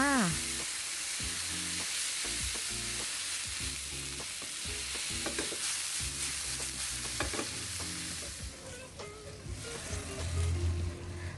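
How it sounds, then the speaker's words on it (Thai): Beef and Thai basil stir-fried over high heat in a hot pan, with a steady loud sizzle and repeated scraping, tapping strokes of the spatula, close and continuous. "เร่งไฟแรงแล้วก็ รีบใส่ รีบผัดนะ"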